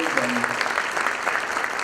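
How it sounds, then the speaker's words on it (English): An audience at a school honor society induction ceremony gives steady applause for athletes still in uniform, dense continuous clapping throughout with a faint voice beneath. "So a nice round of applause for all of them still in uniform as they're running in and off"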